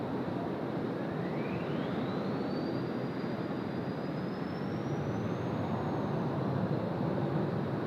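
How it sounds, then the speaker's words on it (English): Singapore Airlines Airbus A380 arriving on runway 16 right at Sydney Airport, a steady distant jet roar with a slowly rising whine, heard from afar and unbroken throughout. "The Singapore A380 next arrival here on runway 16 right."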